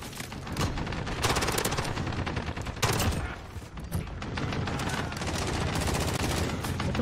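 Rapid sustained bursts of Colt 9mm SMG fire in the game Call of Duty: Modern Warfare, loud and dense, with a brief lull in the middle before more continuous shooting.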